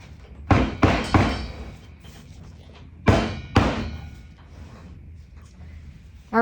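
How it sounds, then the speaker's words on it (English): Soap batter gets tamped down in a mold, giving a few close, dull thumps in two quick clusters of knocks, with quiet stretches between them. "I'm going to tamp this down a little bit."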